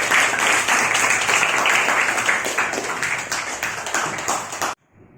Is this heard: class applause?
yes